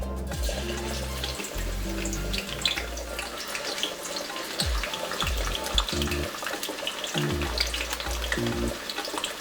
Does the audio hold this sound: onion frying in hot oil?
yes